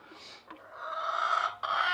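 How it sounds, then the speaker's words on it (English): A hen on a homestead gives soft, drawn-out clucking vocalizations, fairly close and continuous across two seconds, broken briefly partway through. "Oh, hello, Miss Chicken."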